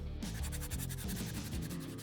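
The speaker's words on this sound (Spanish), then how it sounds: "Lijamos los bordes más ásperos" Sandpaper rubs the rough edges of a homemade Venom symbiote puppet in a steady back-and-forth rhythm of scratchy strokes, close but fairly quiet, with no talking.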